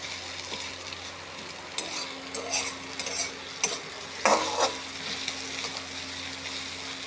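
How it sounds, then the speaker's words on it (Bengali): Onions fry in fish oil with black cumin seeds, green chili and a little garlic, a soft steady sizzle under a faint hum, broken by a few spoon scrapes and stirring clatters against the pan. "মাছের তেল দিয়ে পেঁয়াজ ভাজা"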